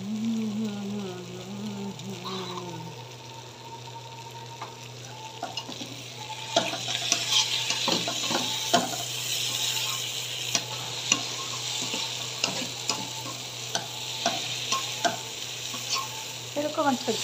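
Oil poured into a hot pan for a spicy fish dish, a hissing sizzle that builds and spreads, with frequent close spatters and pops and the scrape of stirring.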